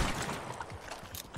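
Gunfire in the Red Dead Online video game: a dense, rattling burst of shots close up and fairly loud, running for over a second with no talk over it.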